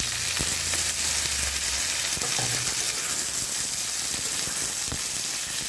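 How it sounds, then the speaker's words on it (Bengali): Potatoes and eggplant fry in hot oil with onions in a pan for a satin fish curry, a loud, continuous close sizzle with occasional stirring taps. "আলু বেগুনগুলো দিয়ে দেবো।"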